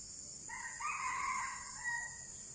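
A rooster crows once at a middle distance in an oil palm plantation, one drawn-out call lasting about two seconds over steady insect buzz, with no speech.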